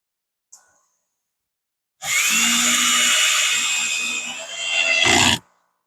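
A close power drill spins with a high whine for a few seconds while driving a screw, ending in a brief harsh ratcheting burst as the clutch slips.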